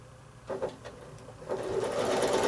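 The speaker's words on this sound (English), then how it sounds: "just going straight off that line, travel stitching against the edge, and coming straight back" Sewing machine doing free motion travel stitching on a quilt, starting in short bursts and then settling into a steady, close mechanical whir.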